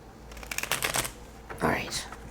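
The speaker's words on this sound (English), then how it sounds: "Let me shuffle one more time here." Tarot cards shuffled by hand in a short burst of riffling, papery flutters and taps, followed by a brief sliding swish, close and fairly quiet with no talking.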